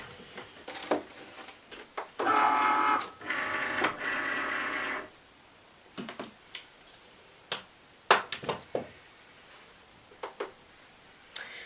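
Vinyl cutting machine cutting an iron-on vinyl design, a few seconds of steady whirring motor movement followed by scattered sharp ticks and clicks of the mechanism, close and alone.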